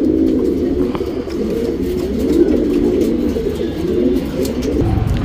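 Pigeons kept as bonded tournament pairs coo steadily and continuously at close range, a low rolling murmur from several birds overlapping throughout, with no talking.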